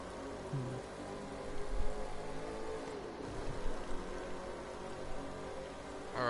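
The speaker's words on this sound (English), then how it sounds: "You can hear that engine sputter" A car engine in The Crew 2 racing game drones steadily through a tunnel, mixed with a constant rushing hiss and a few louder surges, with no talking.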